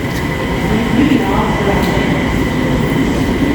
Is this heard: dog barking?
no